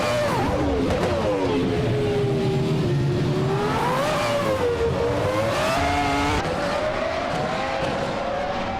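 Formula 1 cars such as a Ferrari F310 and a Benetton B196 racing in a video game: a continuous high-pitched engine whine that rises and falls with gear changes and cornering, loud and steady, with no voices.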